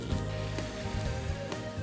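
Shrimp grill in a very hot pan, giving a close, continuous crackling sizzle with a few sharp pops, and no voices.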